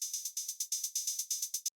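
Dry drum-machine hi-hats without saturation for a deep techno track, playing a steady run of about fifteen crisp, bright ticks at an even rhythm, alone and fairly quiet, then stopping abruptly.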